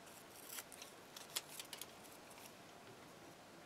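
Scissors trimming paper cutouts, soft faint snips and crisp ticks scattered irregularly over quiet room noise, close by with no talk.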